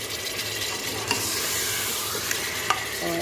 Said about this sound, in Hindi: अब 2 चम्मच लहसुन अदरक का पेस्ट डालूंगी